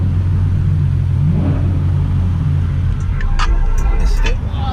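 Cars rev their engines in a rev battle on a freeway, a loud continuous rumble with a rising rev midway, while people talk over it.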